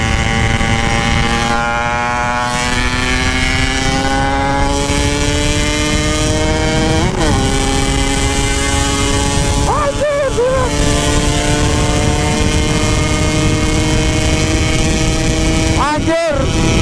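A Yamaha RX King two-stroke motorcycle engine drones loudly and steadily close by, its pitch rising gradually with a few sharp throttle blips and revs breaking the tone, while voices talk faintly in the background.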